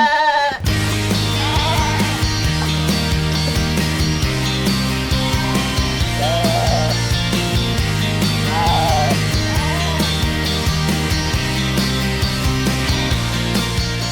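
Goats bleat repeatedly while being given water mixed with rice bran on the slopes of Merapi, their calls rising over a loud, steady bed of music.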